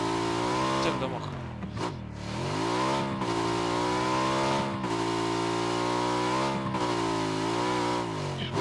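Moped engine in the PUBG video game, a buzzing motor whose pitch rises and falls as it revs and shifts, fairly loud and continuous, with game noise around it.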